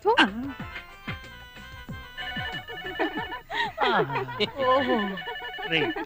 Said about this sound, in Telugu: టెలిఫోన్ ఎంతసేపటి నుంచి రింగ్ అవుతుంది?